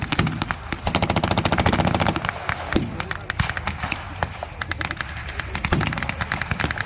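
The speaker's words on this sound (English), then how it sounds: "The American 50 cal gun is strategically placed, trying to take out that German force." Bursts of machine-gun fire from an American .50 cal gun during a WWII-style battle reenactment, dense rapid rattling shots repeating over several seconds, loud and close, with a faint voice beneath.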